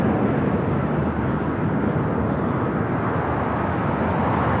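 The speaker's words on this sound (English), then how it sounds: "United Express SkyWest flight 4674, flight heading to Bozeman on an E175." A United Express SkyWest Embraer E175 jet at Los Angeles airport, a steady, loud broadband engine roar that stays constant throughout with no talk.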